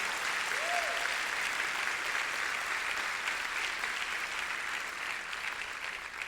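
A church congregation applauds during a Spanish-language sermon, a dense, even roar of clapping that holds steady throughout and tapers slightly at the end.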